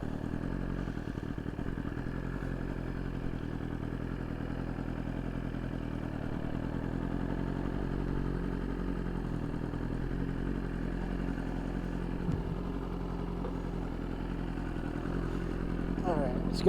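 A BMW S1000RR sport motorcycle running without its tune near a gas station, giving a steady low engine drone that holds evenly throughout, with faint voices mixed in beneath it.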